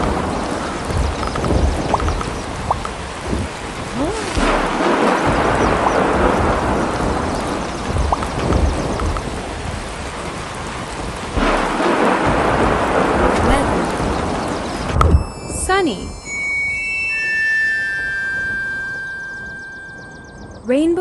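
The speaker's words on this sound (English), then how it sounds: "Thunderstorms are electrical storms with thunder, lightning, and heavy rain." A thunderstorm sound effect from the Marco Polo weather game for children: loud, steady heavy rain with rolling thunder swells, then it gives way to light, bright chiming game tones near the end.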